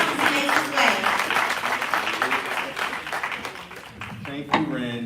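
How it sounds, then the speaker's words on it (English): Audience applause for the chief of staff of a county sheriff's office as he walks up at a live-streamed event, a steady mid-level clapping that runs under voices and talk before tapering, with a brief louder spot near the end. "Give him a round of applause as he makes his way."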